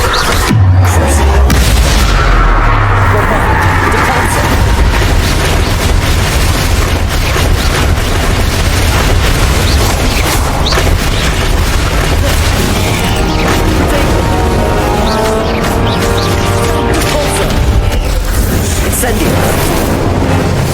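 Fire spell blasts in a Harry Potter video game, loud booming bursts and crashing impacts over a dense, continuous rumble of game effects, with a voice breaking in now and then.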